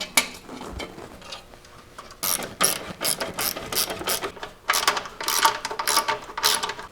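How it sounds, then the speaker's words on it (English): A ratchet clicks rapidly in repeated close bursts, tightening stainless steel bolts with nylon lock nuts on a propane tank bracket, the metallic ticking growing louder in the later strokes. "We're going to be bolting it onto the side right here, right like that."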